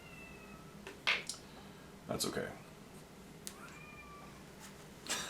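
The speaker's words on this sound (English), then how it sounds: "My cat really wants food, so you're gonna hear my cat bugging me for probably the next" A hungry pet cat meows repeatedly in an indoor hobby room, several short nasal cries spaced a second or so apart at moderate distance, with a person briefly speaking nearby.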